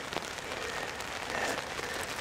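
Steady rain patters on a sagging hammock tarp outdoors, a dense, even hiss of drops hitting the fabric with soft crackling texture throughout, close and continuous, with no talking.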